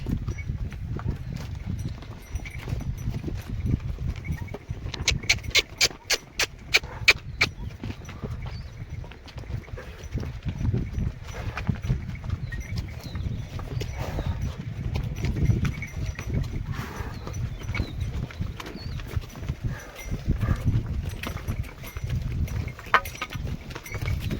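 Cattle walk along on a rural track in Gujarat, hooves thudding low and steadily for over twenty seconds, with a brief bright jangle of bells partway through and faint voices in the background.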